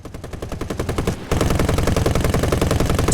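Aircraft machine guns fire in War Thunder as a fast, steady rattle of rounds. A short stream is followed by a louder, continuous burst after a brief break.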